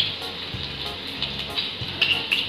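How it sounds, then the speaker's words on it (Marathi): Cumin seeds and finely chopped garlic sizzle in hot ghee with a steady, close frying hiss. Soft stirring clatter comes through intermittently, and no one speaks. "तूप गरम झाले की त्यात आपण जिरे घालणार आहोत. त्यानंतर लगेचच बारीक लसूण घालणार आहोत."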